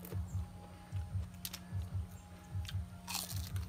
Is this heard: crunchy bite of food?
yes